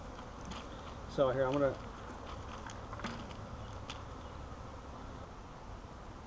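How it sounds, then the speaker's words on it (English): A swarm of honey bees, gathered in a swarm catch being installed, keeps up a constant, soft buzzing hum throughout, while someone talks briefly over it. "That's a lot of bees."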